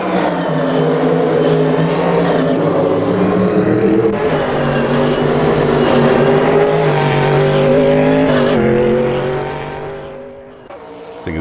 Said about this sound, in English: Love to hear that engine roar.